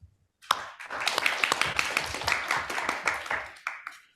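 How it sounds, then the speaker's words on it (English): Applause from a conference audience breaks out after a brief silence and holds as a steady, fairly dense clatter of handclaps before starting to thin near the end. "Let us give him a warm round of applause."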